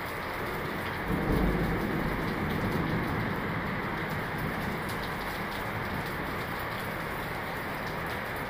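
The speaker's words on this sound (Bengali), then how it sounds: "বজ্রপাত" Heavy rain pours steadily in Kuala Lumpur, heard from a high-rise around the fiftieth floor, a dense continuous wash with a low thunder rumble swelling near the start and fading under the downpour.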